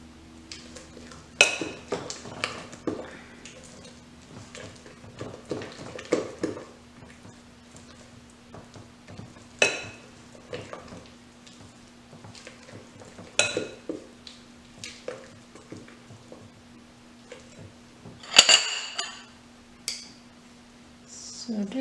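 A spoon scrapes and clinks against a bowl while peanut butter cookie dough with vanilla is mixed, soft irregular knocks and scrapes close by over a faint steady hum.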